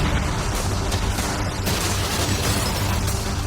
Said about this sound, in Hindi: भले ही एक कैनन ने उसकी यॉट को हिट किया